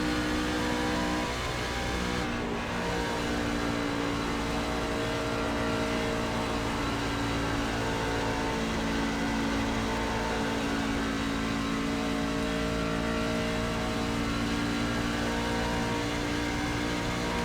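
Racing truck engine in the iRacing video game during a qualifying lap at Auto Club, a continuous loud droning whine with steady harmonic tones held throughout and no talking.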